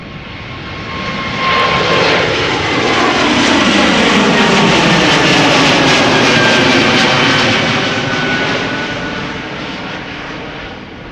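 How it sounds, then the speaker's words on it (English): A year-old Bombardier C Series 300 (Airbus A220) jet airliner at Schiphol Airport roars past under a low cloud ceiling, its engine noise swelling from a distance to a loud peak, then fading away. "Bombardier C Series 300, nowadays called A220s."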